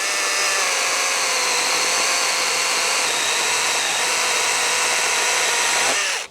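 A STIHL GTA cordless pruner saw cuts through a branch with a steady, loud, high-pitched motor whine and buzzing chain rasp that holds for about six seconds, then stops abruptly.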